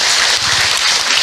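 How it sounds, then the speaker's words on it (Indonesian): An audience at an Islamic talk on modesty and social media claps in a dense, loud, continuous burst lasting just over a second. "Tepuk tangan buat Bunda."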